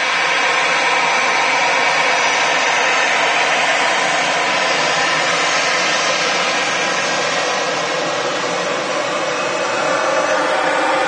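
Steady broadband roar of an airliner landing at Manchester Airport, a constant loud whooshing engine noise holding for the whole stretch with no talk over it.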